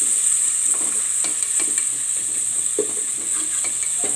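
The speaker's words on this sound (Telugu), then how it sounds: "అల్లం వెల్లుల్లి పేస్ట్ వేసుకొని అది కొంచెం ఫ్రై అవ్వనివ్వాలి." Ginger garlic paste frying in a pan for chicken fry, a steady bright hiss with repeated scraping stirs and soft pops, close and moderately loud.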